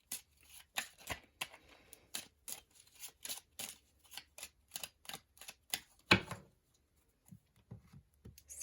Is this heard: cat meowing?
no